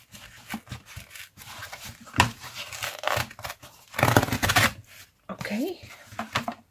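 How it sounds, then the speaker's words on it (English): Paper packaging is ripped away in several short, crackling tears and crinkles, close by, with a person talking between and over the tearing. "I'm going to rip this one off too."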